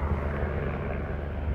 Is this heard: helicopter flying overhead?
yes